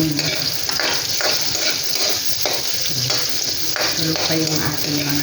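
Onions fry loudly in a pan for chicken asado, a dense, constant sizzle with repeated stirring strokes running through it.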